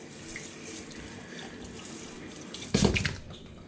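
Running tap water rinses dishes in a kitchen sink, a steady low hiss of flow that swells into a louder, splashing burst near the end.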